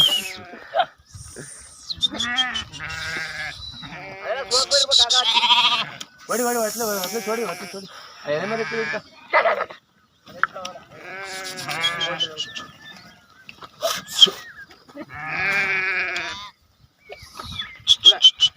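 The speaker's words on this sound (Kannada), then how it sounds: "ಎಲ್ಲ ಒಳಗಡೆ ಬಂದಾವ ನೋಡ್ರಿ ಕುರುಗಳು" A large flock of sheep, around 600 animals, crowds into their shed, giving repeated overlapping bleats that come in bursts, some near and loud, others farther off.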